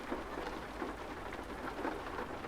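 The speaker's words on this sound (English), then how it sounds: "First time it's rained, I think," Rain in the American Truck Simulator video game, set in Wyoming: a steady, even patter of drops on surfaces with a soft rumble beneath, continuous throughout.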